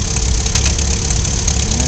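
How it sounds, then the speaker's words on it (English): A roughly 20-horsepower Wisconsin V4 engine on a 1946 New Holland 76 hay baler runs steadily in a field, a loud, close, continuous rumbling idle with a knocking edge and no talk. "The V4 Wisconsin engine, about, I think around 20 horsepower."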